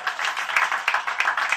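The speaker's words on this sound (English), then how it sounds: "Don't clap too hard." Comedy club audience applauding a comedian, a short burst of dense, brisk clapping at moderate distance with no talk.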